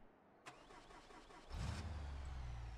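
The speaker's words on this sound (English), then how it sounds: "Yes, sound of the Hemi." A Hemi V8 car engine in a video game car mod cranks with a short click and starter whir, then catches and settles into a loud, deep, rumbling idle that holds steady to the end.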